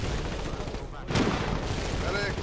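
A mortar tank fires in the Foxhole war game, one sharp blast cutting through steady battle rumble and distant gunfire, with voices talking around it.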